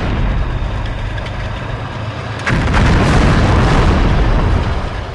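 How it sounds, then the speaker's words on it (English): A tracked Russian 2S31 Vena 120mm self-propelled mortar fires once midway, a loud sharp boom over the steady rumble of its idling engine, with the heavy noise continuing after the shot. "Russia's Vena self-propelled vehicle fires Russian and NATO standard gun and mortar shells."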